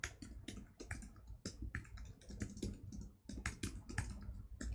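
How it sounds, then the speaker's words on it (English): Fast, uneven typing on a computer keyboard while coding, a dense run of close clicky keystrokes with brief pauses, no voice over it. "I don't know why I'm typing so poorly today."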